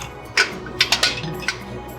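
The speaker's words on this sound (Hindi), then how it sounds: "जैसा कि आप देख रहे हो, अब हो रही है बॉटल डोजा जिन।" Glass bottles of Doja gin clinking during bottling, several quick bright clinks in an irregular cluster, close and moderately loud over a faint background hum.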